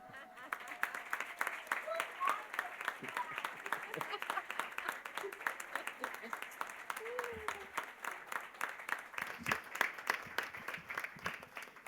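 An audience applauds at a film and education event, the clapping steady and fairly close for the whole stretch, with faint voices mixed in underneath.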